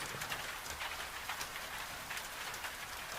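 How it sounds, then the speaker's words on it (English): Steady rain patters on a farmhouse kitchen window in Scotland, a soft, even wash of drops that carries on without pause and with no voices. "The rain on the window finds a slightly heavier gear for a moment, a brief intensification"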